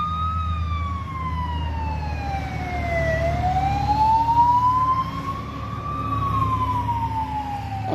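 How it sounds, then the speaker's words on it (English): An ambulance siren wails past, its tone sweeping down and back up in a long two-tone cycle, loud and close over low road rumble, with no talking. "This ambulance pass here."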